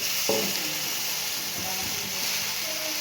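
Green mung dosa batter and ghee sizzling on a hot pan, a steady frying hiss throughout with a soft scrape or clatter near the start and a few light knocks later.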